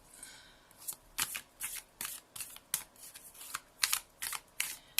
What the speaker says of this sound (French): Allez, on va prendre cette petite carte complémentaire.